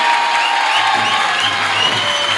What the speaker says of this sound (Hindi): मैं चाहता हूं एक जोरदार ताली मेरे प्रभु के लिए।